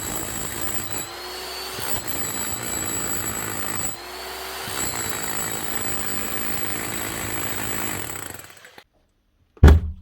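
A repaired demolition hammer, only a few weeks old, runs loud and steady with rapid hammering, dipping briefly twice, then cuts off near the end before a short knock.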